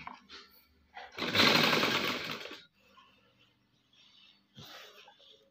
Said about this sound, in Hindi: अब दोस्तों हम सिलाई मारेंगे, देखिए इलास्टिक पर नहीं मारना है सिलाई दोस्तों, इलास्टिक के नीचे मारना है सिलाई